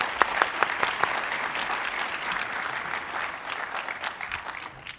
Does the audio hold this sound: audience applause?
yes